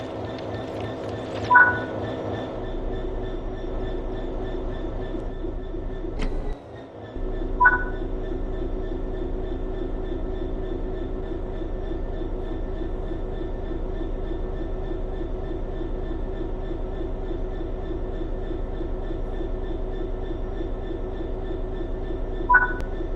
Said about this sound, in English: Let's get the train moving and see it all working.